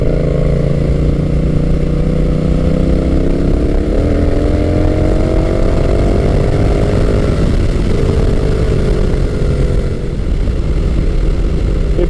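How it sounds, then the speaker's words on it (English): A Honda Rebel 1100 T DCT motorcycle engine pulling hard under throttle, a loud continuous droning roar with rising pitch sweeps as revs climb and gears hold long. "giving it the gas, it kind of holds the shift much longer."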